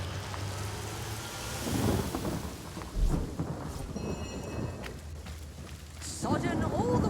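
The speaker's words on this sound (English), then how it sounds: "Rain nurtures our land." Steady rain with rumbling thunder swells in the video game Divinity Original Sin, a continuous wet hiss rising into deep crashes, while game character voices talk over parts of it.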